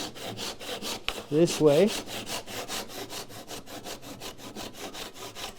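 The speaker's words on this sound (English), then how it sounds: "I could cut the miter in both pieces" Hand saw cutting a rough miter through a wooden workpiece, a quick series of rhythmic rasping strokes close by, with a brief spoken remark partway through.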